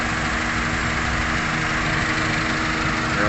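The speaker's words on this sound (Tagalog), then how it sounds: "Yung fan motor yan oh," The air-conditioning fan motor of a 2007 Honda Civic FD 1.8 with an AC fault runs hard, a steady, loud whirring hum with an even motor drone, close up and unbroken.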